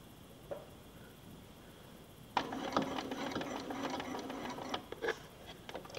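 A sewing machine stitches quilt binding toward a corner, starting after a quiet pause as a fast, even mechanical whir that runs for a couple of seconds, then stops with a few short stitch bursts.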